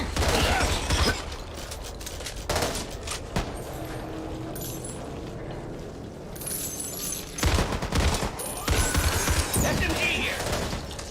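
Submachine gun fire in the co-op zombie shooter Back 4 Blood, heard as dense bursts of rapid shots with mechanical clatter, mixed with other game effects and voices talking throughout.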